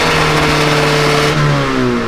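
A Honda car engine revs hard at full throttle, a loud sustained roar that climbs in pitch and then shifts, close and alone.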